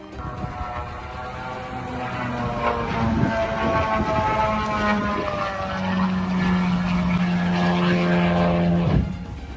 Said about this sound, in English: Footage shows downed Shahed drone ricocheting off water in Odessa region during today's attack.